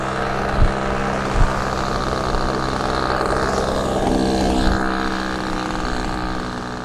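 Avistar AV67 RC model airplane engine idling: a steady, continuous buzzing drone with a constant pitch, fairly close, accompanied by some wind noise and a few soft bumps, with no talking.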